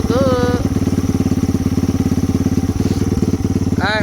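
A Lifan KP Mini 300 motorcycle with a ZS175FMN engine and an HKS air filter idling as it warms up, a loud, close, rapid and even thumping pulse that stays steady throughout, with brief squeaky tones at the start and end.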